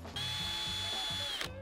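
A powered screwdriver drives screws to attach vintage Elipson Heritage XLS 15 speaker stands, one steady high whir lasting over a second and ending abruptly, close and alone.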